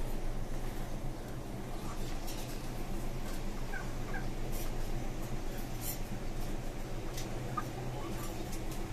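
Steady poultry clucking and gobbling-like calls from chickens on a rooftop farm, over a constant low hum outdoors, continuous throughout with no talking.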